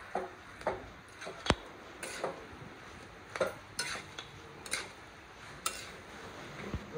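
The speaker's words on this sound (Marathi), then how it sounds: "आणि ह्यात आपल्याला मस्तपैकी बारीक होईपर्यंत एक मस्तपैकी मिक्स करून घ्यायचं" Pav bhaji vegetables being stirred and mashed in a pan, with repeated scraping and knocking strokes at an irregular, unhurried rhythm over a soft background hiss, close and moderately loud, no talking.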